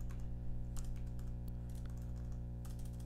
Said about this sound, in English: If I can type this correctly.